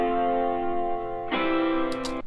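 A sustained synth chord rings with harmonic-rich crunchy distortion, then a second, fuller chord enters mid-way with added brightness and a few high glitchy bursts before cutting off.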